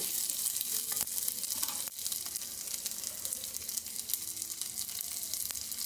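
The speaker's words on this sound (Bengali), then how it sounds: "বাদাম, তিল আর নারকেল কোড়াটা দিয়ে দিলাম। দিয়ে এটা একটু নাড়াচাড়া করতে হবে।" Peanuts, sesame seeds and grated coconut stirred in a hot pan give a steady dry sizzle and rustle, with a few faint scrapes of a utensil throughout.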